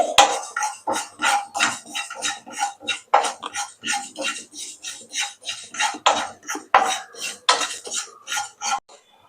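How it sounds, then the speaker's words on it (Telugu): Dry coconut roasting in a pan, stirred with quick, continuous scrapes and clinks of a spoon on metal in a busy rhythm, close and fairly loud, with no one speaking. "ఎండు కొబ్బరి రెండు స్పూన్లు వేయించుకోవాలి"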